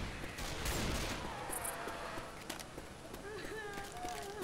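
Gunfire in the Left 4 Dead 2 video game: a dense, rattling spread of overlapping shots at a steady mid level, with faint voices in the background.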